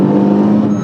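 A Renault Mégane 3 RS Phase 3 accelerating hard, its engine a loud, dense, continuous roar heard from inside the car in a brief full-throttle burst, with no talking.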